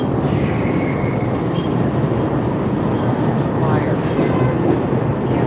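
Chicago elevated Orange Line train passing on the Loop tracks, a steady loud rumble of wheels and cars with faint squeal, continuous and close amid city street noise.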